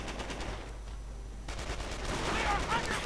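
Machine gun fire and gunshots in a World War II real-time strategy game battle, as a heavy machine gun cuts down Panzer Grenadiers. The shots rattle steadily under a dense battle din and grow louder toward the end.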